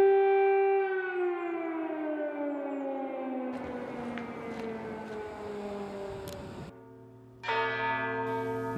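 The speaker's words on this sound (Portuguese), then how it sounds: "As badaladas dos sinos da Catedral St. Michael lembram o começo do conflito." Deep, resonant bells of St. Michael's Cathedral in Kyiv toll at midnight with long sustaining hum and overtones, loud and continuous, shifting to a new strike near the end.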